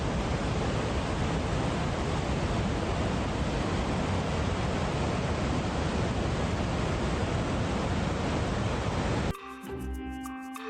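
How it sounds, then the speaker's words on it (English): A waterfall swollen by 200 millimeters of rain, a loud, dense roar of pounding water filling the scene for about nine seconds before cutting off abruptly to quieter sound. "This is what 200 millimeters of rain does to a waterfall."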